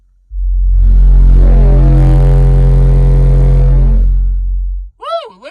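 A deep steady 45 Hz bass tone booms from CT Sounds Tropo 10-inch subwoofers inside a car, very loud and sustained for about four and a half seconds before cutting off, followed by a brief excited voice.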